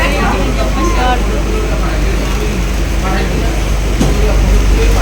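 Inside a moving train during heavy rain, with a constant loud low rumble of the carriage and engine; people talk over the noise throughout.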